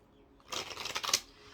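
A brief riffle of tarot cards being shuffled close up, a quick flurry of papery flicks lasting under a second.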